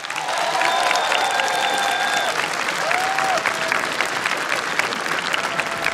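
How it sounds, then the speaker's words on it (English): Audience applause fills an esports arena during a World of Tanks grand finals playoff match, a steady, dense clapping from the crowd lasting throughout with a few faint whistles or tones above it. "let's give a big round of applause for Lemming Train"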